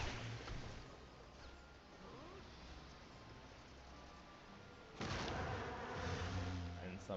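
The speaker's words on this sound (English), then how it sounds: "And some bees." Buzzing bees in the Final Fantasy XIV dungeon Dohn Mheg, a steady insect drone under game music and combat effects, swelling louder for the last couple of seconds.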